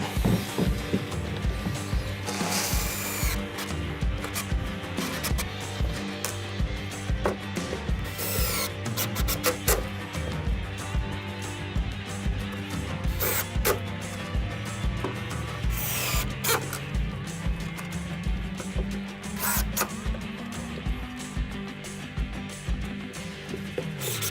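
Hatch hardware is fastened onto a Hobie Mirage Passport 12 kayak, with close scraping and rubbing, short tool whirs and clicks, and a rising drill-like whine near the end.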